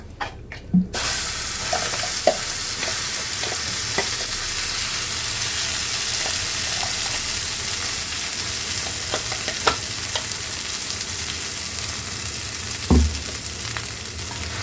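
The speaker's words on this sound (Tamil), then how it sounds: "இது போட்டு நல்லா வறுத்துட்டு இது நல்லா பொரிஞ்சு வருது" Spices fry and splutter steadily in a hot pan for a mint chutney, a continuous close sizzle with scattered pops and crackles running throughout, no voices over it.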